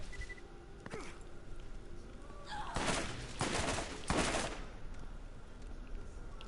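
Gunfire from weapons in the video game Borderlands: a few loud, crackling bursts of rapid shots in quick succession, set over a steady background of game noise.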